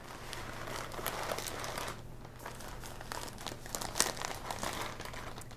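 Close, continuous crinkling of plastic bags as two 14-ounce bags of sweetened coconut flakes are emptied, with soft rustles and a brief lull partway through, no talking.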